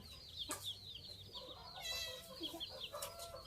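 Chickens cluck in a forest, with soft repeated clucks and a few sharper calls nearby but faint, over quiet outdoor background and no talk.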